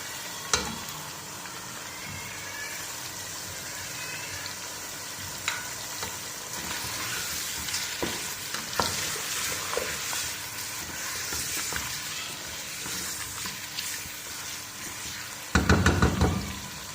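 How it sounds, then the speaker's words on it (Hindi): Chicken frying with garlic, ginger and spices for chicken nihari, a continuous close sizzle with occasional stirring knocks and scrapes, ending in a louder burst of clatter, no talking. "अब चिकन को थोड़ी देर फ्राई होने देंगे।"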